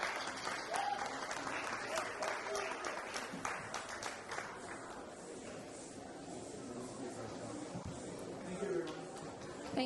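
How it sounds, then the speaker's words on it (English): An audience at a Hindi Divas 2024 award ceremony applauds the award recipients with steady, dense clapping that fills the room for about ten seconds and eases slightly in the second half; a voice is also present in the mix. "Could everyone please give these award recipients a round of applause?"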